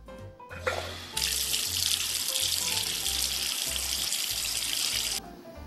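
A bathroom tap turns on and runs steadily into a sink for several seconds of bright, hissing splash while teeth are brushed, then shuts off, preceded by a brief clatter.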